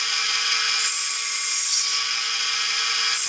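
Knife blade sanded on a worn 3M Trizact 80-micron belt grinder, a steady high-pitched abrasive whine that holds continuously and loudly throughout.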